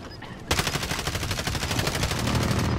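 Rapid automatic gunfire in the Warzone battle royale video game, one loud continuous burst starting suddenly and rattling on without pause.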